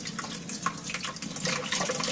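Water is poured into a vacuum cleaner at a repair shop, making a continuous close splashing and trickling that swells slightly toward the end, with no talking.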